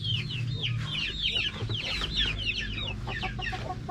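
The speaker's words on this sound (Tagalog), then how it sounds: "Ayan, yung mga manok." Many chickens cluck continuously close by, a busy overlapping chorus of short chirpy calls over a low steady background hum.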